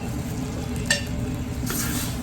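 Boiled drumstick pieces dropped into a pot of simmering sambar, soft sizzling and stirring with a couple of brief clinks of a utensil against the pot.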